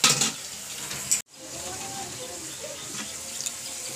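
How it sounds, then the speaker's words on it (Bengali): Large pieces of potato fry in a pan with a steady, close hissing sizzle. The sound breaks off briefly, then continues at a lower, even level. "এখন করছি আলু ভাজা।"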